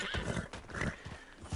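A Mustang horse in Red Dead Redemption 2 gives a faint, breathy whinny with snorts and muffled hoof movement.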